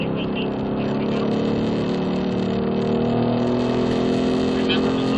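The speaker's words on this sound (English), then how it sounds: "Now I start getting on the throttle, stay in the group" A Ford Mustang accelerates steadily on a race track in a group of cars, engine drone loud and continuous with harmonic layers throughout, a voice talking over it.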